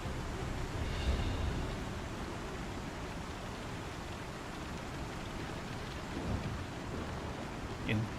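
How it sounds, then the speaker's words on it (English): Steady rain hisses continuously in a Star Citizen game environment, with low rumbles of thunder swelling near the start and again later, at a moderate, even level. "Now you can hear the rain."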